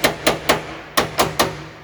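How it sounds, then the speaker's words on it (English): A body hammer taps out a dent in a Honda Pilot's car body: six sharp, close metallic strikes in two quick groups of three, each ringing briefly before the next. "Now, I'm going to take a body hammer."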